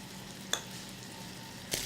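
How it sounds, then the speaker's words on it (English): Steak searing in a hot pan, a faint, steady sizzle with two short sharp crackles, no voices. "You're going to need to let it sear for about 2 to 3 minutes on each side."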